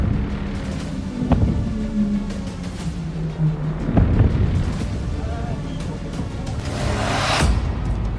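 Deep booming blasts and rumbling explosions from air strikes roll through a noisy, chaotic scene in Caracas, Venezuela, with a louder burst near the end.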